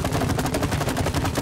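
Rapid, continuous gunfire in the co-op video game It Takes Two, a dense, loud rattle of shots with no break, heard alone.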